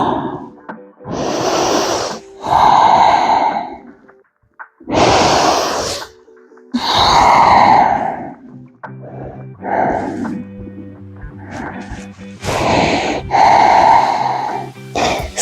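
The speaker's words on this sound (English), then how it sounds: "A few deep breaths." Deep, slow breaths during a seated forward fold in a morning yoga flow, several long inhale-exhale cycles close and clear, with soft background music and no talking.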